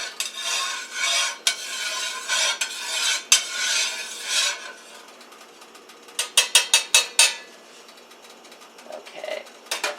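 Tofu is stirred and spread around in oil in a pan for spicy Chinese tofu. A utensil scrapes close and loud in uneven bursts, goes quiet for a moment, then makes a quick run of short strokes.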